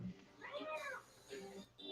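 A cat meows faintly twice, in a short whiny call, and people talk around it.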